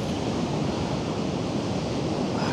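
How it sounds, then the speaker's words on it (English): Sea waves crash continuously on the Blackpool coast during Storm Bert, a loud, steady roar of surf mixed with wind buffeting the microphone, with no voices. "listen to the waves crashing"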